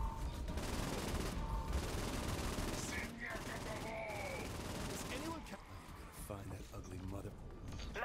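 Rapid bursts of gunfire from the video game Saints Row IV, a dense, continuous volley with sharp repeated shots that runs the whole time under a voice talking.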